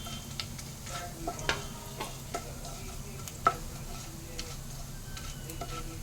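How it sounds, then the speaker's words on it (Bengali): Low, steady sizzling of dry red chilies and bay leaves frying in oil, with occasional light ticks and clinks of a utensil against the pan. "দুটো শুকনো লঙ্কা দিয়ে দিলাম ফোড়নে, তেজপাতা দুটো দিয়ে দিলাম।"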